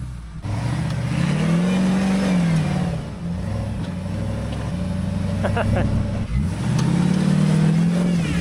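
An off-road vehicle revs hard while climbing a hill, its engine pitch rising and falling in repeated surges, loud and close, with a voice talking over it.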